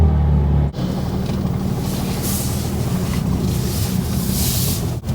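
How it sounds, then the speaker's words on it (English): A car lowered on KW height-adjustable springs, freshly aligned, drives along with a steady low road and engine rumble and wind buffeting throughout, loud and continuous, with no talking. "For now, let's go for a drive."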